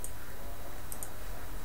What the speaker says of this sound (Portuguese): Ainda tem aquela do meu mouse ficar clicando 2 vezes